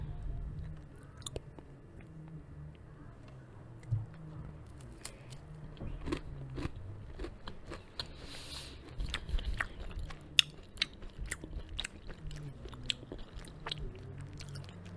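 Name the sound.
eating buttery snacks from Whole Foods, chewing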